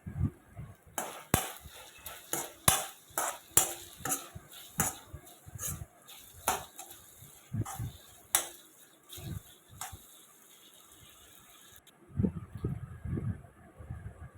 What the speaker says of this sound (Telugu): వెనిగర్ వేసుకొని బాగా కలుపుకోవాలి